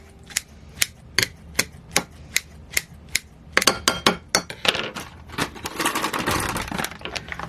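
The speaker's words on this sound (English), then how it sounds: "cutting them up with scissors" Scissors snip artichokes repeatedly in a steady rhythm, sharp clicking cuts that speed up and blur into wet clattering near the end.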